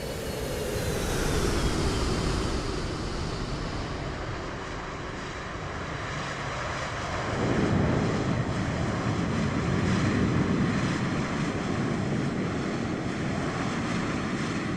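A WestJet Boeing 737 Max 8 lands at Portland in a flight simulator game after a flight from Vancouver. A steady airliner roar with airy wind noise swells into a louder, deeper rumble midway and holds to the end, with no voices.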